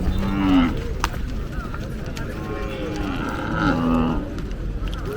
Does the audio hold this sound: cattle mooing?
yes